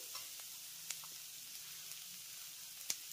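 Spices and tomato stir-frying in a pan for veg thukpa soup, a soft, steady sizzle with a few light scrapes of a spoon or spatula against the pan, quiet and close, no voices.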